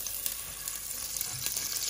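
Butter melting into a mix of olive oil and ordinary oil in a pan while cooking American-style rice, giving a steady close sizzle and crackle with no break.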